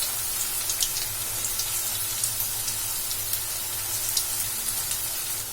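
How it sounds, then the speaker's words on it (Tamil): Poha and gram flour snack frying in hot oil, a steady, soft sizzle with scattered small pops and crackles throughout, no voices. "இது வந்து நல்லா ஆயில ஃப்ரை ஆகி வரட்டும்."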